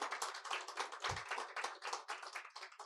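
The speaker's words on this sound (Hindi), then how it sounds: "तो हम एक बार जोरदार तालियों से स्वागत करते हैं हमारे 2 स्पीकर्स का" A crowd claps steadily to welcome two speakers at a Hindi-language relationship-advice talk, a dense and even roar of many hands that continues throughout at a modest, somewhat distant level, with no voices over it.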